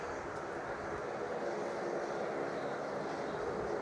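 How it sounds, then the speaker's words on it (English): A Boeing 787-8 Dreamliner at Melbourne Airport heads out bound for Delhi, its jet engines a steady, fairly distant rumble and hiss that stays constant throughout. "this is a 787-8 Dreamliner heading back to Delhi"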